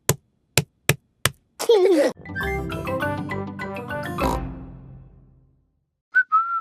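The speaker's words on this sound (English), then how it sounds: "I'm whistling." A cartoon father pig whistles a wavering tune after a few sharp knocks, then a busy jumble of chopping and clattering sounds fades out, ending with a short high whistle-like tone.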